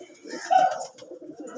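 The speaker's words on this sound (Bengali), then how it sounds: "পায়রা এটা" A Madras pigeon gives one soft, close coo in a pigeon loft, a brief throaty call over quiet background murmur.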